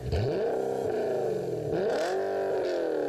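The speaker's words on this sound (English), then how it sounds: "this is a bit more of a squeaky V8." A squeaky-sounding V8 car engine revs loudly and close up in repeated rising pulls, dipping and climbing again, with no talk over it.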